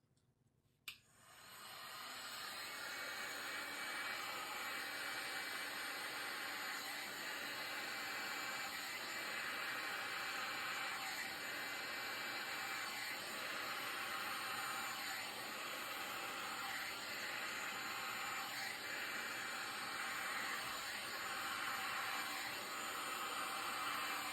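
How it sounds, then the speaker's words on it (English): A more powerful new heat gun blows hot air across resin to shape ocean waves. After a click, a steady, loud airy roar and hiss runs unbroken close by, with a thin constant whine. "Here comes the new heat gun."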